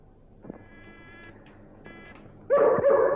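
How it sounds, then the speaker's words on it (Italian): A dog barks in a 1940s Sherlock Holmes film scene, two moderate barks early followed by a louder, closer burst of barking and yelping at the end. "Non mi piace come abbaia."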